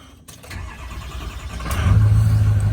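A 6-liter engine in a wrecked 1996 Mustang turns over and catches, rising from a low rumble into a loud, steady running drone close by.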